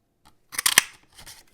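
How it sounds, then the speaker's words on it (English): Stamped Whisper White paper inked in Berry Burst being punched out with a classic label punch: one quick crunching clack up close, followed by a softer rustle of the paper. "Then we're going to punch that out with the classic label punch."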